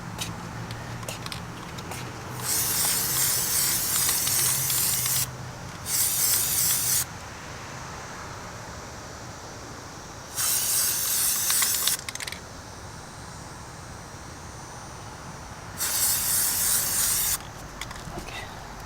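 A spray can hisses paint onto 2019 Mustang GT emblems in four separate long bursts of a few seconds each, a loud, close, bright hiss with quiet pauses between.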